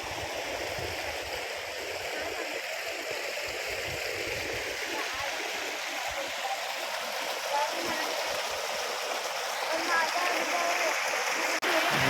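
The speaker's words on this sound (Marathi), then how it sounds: "झाडांच्या आडून सावलीतनं नदीचं पाणी वाहत असतं खळाळ्यात वाहतं" Continuous rushing of a Konkan village river flowing near a dam at Aare, Guhagar, a steady broadband wash that holds level throughout, fairly close.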